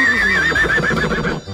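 A robot dog toy plays an electronic imitation of a unicorn or horse neigh: one loud, close, quavering whinny lasting about a second and a half, with no one talking.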